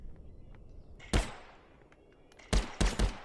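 Shots from a rifle in a VR shooting game: a sharp single crack, a pause, then a quick run of three shots, close and clean over a quiet background.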